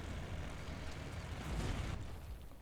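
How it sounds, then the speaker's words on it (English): An explosion in the space video game The Long Journey Home rolls out as a dense, rumbling roar that builds and then trails off, sustained rather than a sharp bang, with no talking. "Oh, and an explosion."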